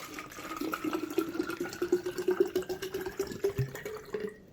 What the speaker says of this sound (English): I'm gonna put a whole bottle of water in this.